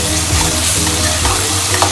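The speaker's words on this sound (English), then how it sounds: "large teaspoons of ginger garlic paste. This is homemade ginger garlic paste. Give it a stir" Homemade ginger garlic paste fries in a pan for a chicken curry, sizzling loudly and continuously while a utensil stirs it through close scraping, with no talk.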